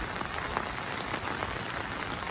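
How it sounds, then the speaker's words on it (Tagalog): Rain falling on an open umbrella held outdoors near a pigeon loft during heavy rain, a steady close hiss of dense droplets pattering on fabric, fairly soft and continuous. "Umuulan kasi dito mga kalapatids."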